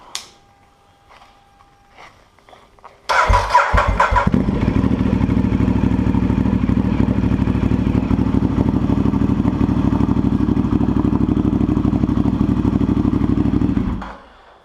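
A Ducati Diavel motorcycle fires up after a few faint clicks, cranking briefly before settling into a loud, steady, rumbling idle close by that runs for about ten seconds, then cuts off.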